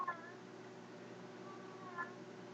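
Doug's cat lets out two soft, crying meows, one at the start and another about two seconds later, quiet and somewhat distant over a low steady room hum.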